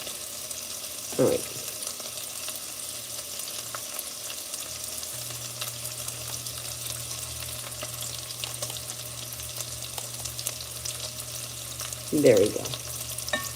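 Food sautéing in a pan for rice and beans, a steady low sizzle running under the whole stretch with two louder stir-and-scrape bursts near the start and end; a person speaks briefly.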